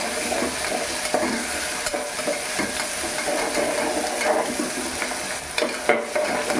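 Green chilli and onion fry in a pan for khichdi, a continuous close sizzle broken by repeated scraping stirs of the spoon.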